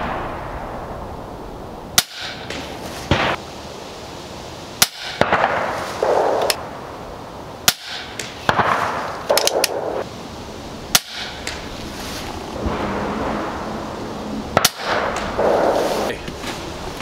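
Five sharp cracking shots from an ATI Nova Vista Liberty .22 air rifle, spaced a few seconds apart, each a loud close snap followed by brief metallic clatter and handling noise between shots.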